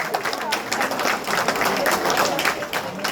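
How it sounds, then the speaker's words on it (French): An audience applauds young U14 boys' handball champions at a medal ceremony, a dense, steady round of clapping that carries on throughout at moderate loudness. "Des applaudissements, s'il vous plaît, pour cette jeunesse."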